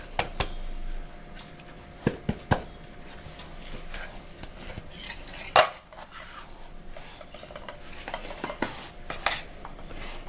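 Grated coconut is mixed into dough in a bowl for sughiyan, a Kerala tea-shop snack, with scraping, clinking spoon-against-bowl sounds and soft stirring, steady with a few sharper knocks.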